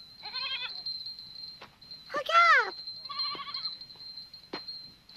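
Goats in a mountain herd bleat in several short, wavering calls, one loud and near, with someone speaking briefly among them over a steady high whine.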